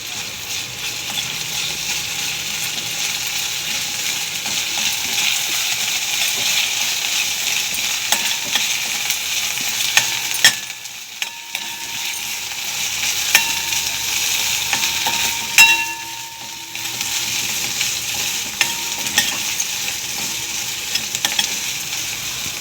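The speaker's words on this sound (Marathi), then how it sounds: "एक 2 मिनिटं कांद्यात आपण मिरची परतून घेऊ" Green chillies frying in onions in a pan for a thin methi bhaji, a constant close sizzle broken by spatula scrapes and clinks and two brief dips where the stirring pauses.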